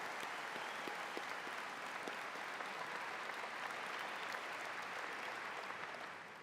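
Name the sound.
audience applause for graduation award recipients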